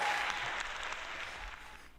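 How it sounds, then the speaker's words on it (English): A live audience claps for a comedian's entrance on a comedy podcast, steady applause that slowly fades over two seconds with no talk. "Oh, there's the applause."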